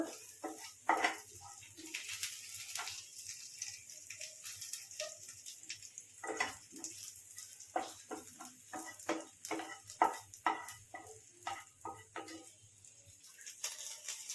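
Ivy gourd (kovakka) fries in oil in a pan: a soft, steady sizzle broken by frequent clicks and scrapes of stirring, quiet and close, with no talking.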